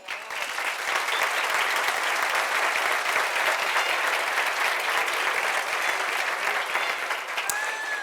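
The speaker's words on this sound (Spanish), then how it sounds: "Un aplauso para vosotros." A business leaders' gathering audience breaks into sustained applause, a dense, steady roar of many clapping hands that holds evenly for several seconds with no talk over it.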